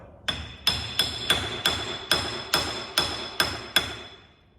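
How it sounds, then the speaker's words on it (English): A hammer strikes the rear part of a car about ten times in a steady rhythm, each blow a sharp metallic knock with ringing decay, close and loud with no talk. "Had a slide hammer would be easier. I just knock onto it."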